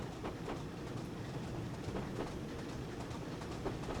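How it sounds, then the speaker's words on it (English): A train in Train Simulator Classic on the Buchan Line between Aberdeen and Peterhead rumbles past with a soft, steady rolling drone and faint rhythmic clicks, quiet and continuous throughout. "Okay, I hear another train."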